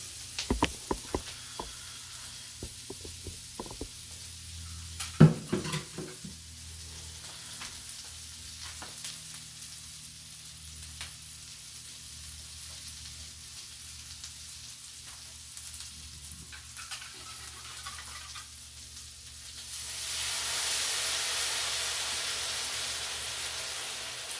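Salisbury steak with half a small onion fries quietly in a pan, a faint steady sizzle with scattered knocks and clatter early on, swelling into a louder hiss near the end.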